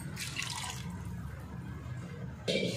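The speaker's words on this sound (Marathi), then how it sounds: "अर्धा पेला टाकलाय पाणी।" Water poured from a half glass into a pot of cooked taro leaves, a steady liquid splash running for a couple of seconds before a brief louder splash at the end.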